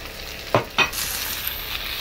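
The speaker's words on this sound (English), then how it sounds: "So give it a stir." Coconut vegetable fried rice stirred in a pan, two sharp spatula scrapes followed by a steady close sizzle.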